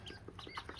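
A mother duck with her ducklings in a farm brooding shed gives soft, repeated clucking calls, heard close and moderately quiet in a short burst.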